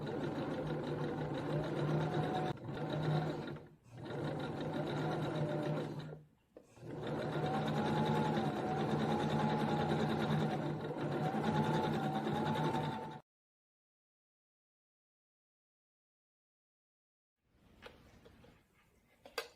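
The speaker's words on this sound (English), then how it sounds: "when I sew with stretch, I like to give it just a little tiny bit of tension when I pull it" A sewing machine stitches a seam in stretch fabric for a sweat bra, running in long steady whirring bursts with a couple of brief stops, close and fairly loud, then falls silent before faint handling noises.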